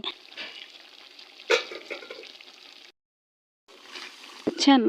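Potatoes and eggplant for a hilsa fish curry sauté together in a pan, with a close, crackling sizzle and stirring scrapes. The sound breaks off into a brief silence, then resumes with louder stirring at the end.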